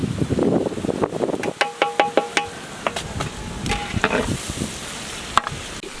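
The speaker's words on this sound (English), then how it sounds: "We will fry these onions until it gets brown color." Onions fry in a pan for a Patiala chicken curry in a large outdoor cooking setting, with a busy sizzle and a run of rhythmic metallic knocks and scrapes of a stirring utensil against the pan, close and fairly loud.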